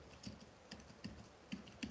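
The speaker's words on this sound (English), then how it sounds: "I'm typing, and I start typing it again and again" Typing on a computer keyboard while entering web page content, heard as quiet, close key clicks in small irregular bursts of about five strokes over two seconds, with no talking.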